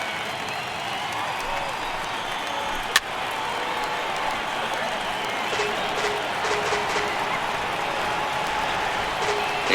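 Baseball stadium crowd of around 26,000 fans in MLB The Show 18, rising to their feet in the ninth inning with a broad, sustained roar of cheering and applause, a sharp crack near the start.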